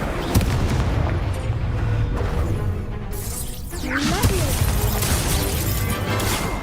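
Incendio fire spell blasts in the Hogwarts Legacy video game on PC, a loud booming burst with crackling impacts over dense game noise, continuing with further whooshing spell effects.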